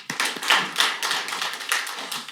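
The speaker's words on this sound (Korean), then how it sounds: "박수로 부탁드립니다." Audience applause breaks out in a conference hall at a National Assembly water forum panel discussion, a steady burst of many hands clapping that swells and holds for a couple of seconds.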